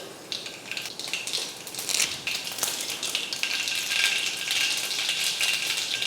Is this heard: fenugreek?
yes